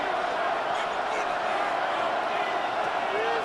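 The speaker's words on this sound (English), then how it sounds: "The Arrowhead crowd in full roar." The Arrowhead Stadium crowd roars in Madden 26 during a simulated Eagles vs Chiefs game, a loud, steady wash of cheering that holds without a break from start to end.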